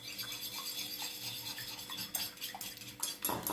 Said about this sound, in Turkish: Şimdi dostlar bakın bir tane yumurtamızı kırıyorum. Ve iyicene çırpıyorum.